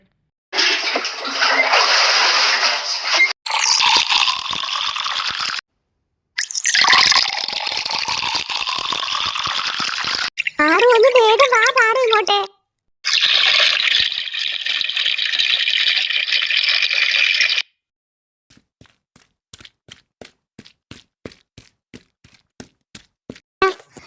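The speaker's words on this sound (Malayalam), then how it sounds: "നീ ഒരു കൂടം വെള്ളം കെടുത്തേ" Water gushes and splashes in several long pours from a pot, separated by brief pauses, then drips trickle at the end; a voice calls out briefly.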